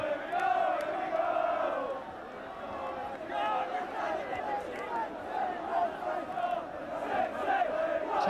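Home supporters at Bloomfield Road roaring after a Blackpool goal against York City in a 1984 Fourth Division match, a loud surging crowd cheer that dips briefly and swells again, with a commentator's voice faintly over it.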